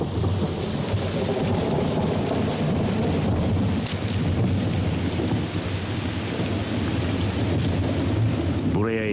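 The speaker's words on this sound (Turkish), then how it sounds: "Şimşeklerle birlikte yağmur da başlıyor." Heavy rain pours steadily in a Congo rainforest, with a constant hiss of drops and low rumbling underneath throughout, as thunder and lightning come with it.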